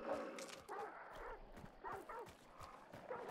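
Dogs barking in the online shooter Hunt: Showdown, several short yaps and barks at middle distance amid game ambience and footsteps, fairly faint.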